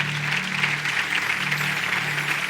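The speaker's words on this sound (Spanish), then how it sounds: "Dale un aplauso al Señor." A church congregation claps together in steady, sustained applause that fills the room from start to finish, with faint voices mixed in.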